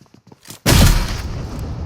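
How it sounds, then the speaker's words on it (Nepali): A few faint clicks, then a loud grenade explosion in PUBG Mobile bursts close by and trails off into a sustained, rumbling roar. "ओए नाइस दुईटा बम पड्क्यो पड्क्यो दुईटा।"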